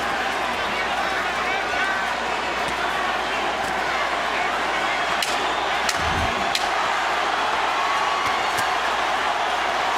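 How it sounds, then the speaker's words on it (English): Dense, roaring arena crowd at a championship boxing match, Manny Pacquiao versus Antonio Margarito, rumbles steadily through the closing seconds of the fight, with a few sharp thuds and cheers rising briefly above the din. "Listen to the crowd."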